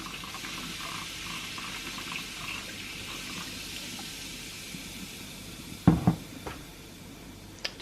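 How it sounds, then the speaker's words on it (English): Baking soda and vinegar fizz while a kitchen is being cleaned: a steady, soft hiss continues throughout, with a few sharp clatters near the end. "I'm just gonna sprinkle a generous amount of baking soda and then my handy dandy vinegar."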